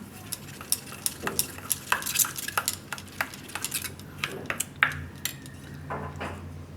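A spoon clinks and scrapes against a bowl while paneer pieces are stirred, producing irregular sharp taps and clatters at close range with no talking.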